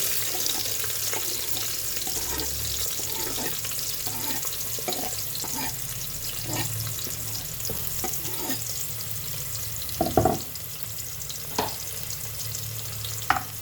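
Onions fry in about three spoons of oil in a pan for mutton chops curry, a continuous close sizzle with repeated spatula stirs and scrapes and one louder clatter, no voices.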